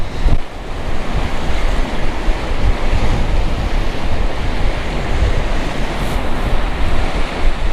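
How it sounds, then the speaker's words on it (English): Wind and sea waves on a rocky coast roar continuously, loud and close, with strong gusts buffeting the microphone throughout and no voices. "Wind and waves."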